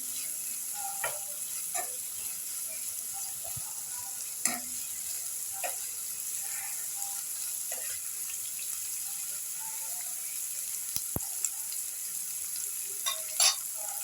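Whole black peppercorns sauté in hot oil for a Kerala-style beef curry: a steady, fairly faint sizzle runs throughout, with sparse light clicks and taps from the pan and spoon, and no voices.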